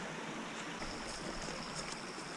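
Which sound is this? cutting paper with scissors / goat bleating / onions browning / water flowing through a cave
water flowing through a cave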